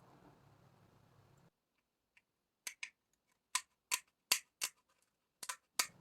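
Small nail scissors cut through the lid of a coffee capsule at home, making a series of crisp, quiet, close snips in an irregular rhythm, with a soft hum fading out before they start.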